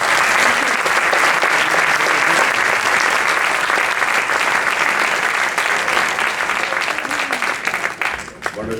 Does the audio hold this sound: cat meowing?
no